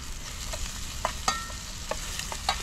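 Food sautés in a pan, a steady close sizzle broken by small clinks and scrapes of stirring.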